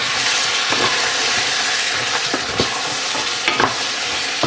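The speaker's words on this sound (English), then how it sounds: "And we're just going to stir this up." Chili flakes stirred into hot oil in a pan: a loud, continuous close sizzle with a few soft scraping strokes of the spoon, no voices.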